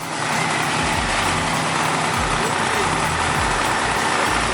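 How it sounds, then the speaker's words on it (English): Buick Grand National engine idling just after starting, a steady deep rumble with slight pulsing, close and loud, with faint talk underneath. "he's just starting his car"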